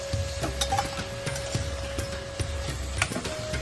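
Lightly fried prawns being lifted from a pan give a faint sizzle under a run of soft, regular clicks and scrapes from the utensil, close and quiet, with no talking.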